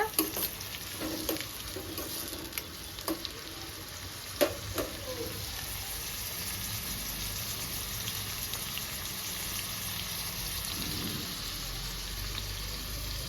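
Onions frying in a pan for mutton cucumber curry: a steady close hiss of sizzling oil with a few sharp clinks and stirring knocks early on, no voices.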